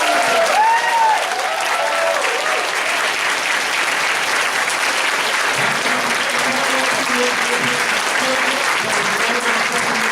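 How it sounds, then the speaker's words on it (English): Sustained, even applause from a large audience rolls on for about ten seconds after a performer is introduced, with faint voices buried underneath the clapping. "can we get a huge round of applause, please, for Lauren?"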